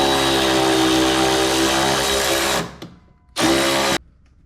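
A power drill drives a self-tapping screw with a loud, steady whine that cuts out, then comes back for a short second burst before stopping.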